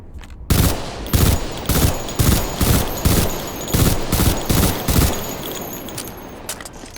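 A Combine gun in Garry's Mod fires in rapid bursts, about a dozen loud, sharp cracks in a quick steady rhythm, each with a short metallic ring, then stopping.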